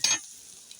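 Turmeric powder is stirred into a frying pan for a village-style banana stem fry, giving a quick scraping sizzle at the start that fades to a faint, steady hiss.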